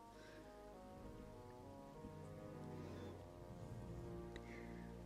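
Steady rain hisses in Final Fantasy XIV, a soft continuous patter laid under sustained game music, with no talking.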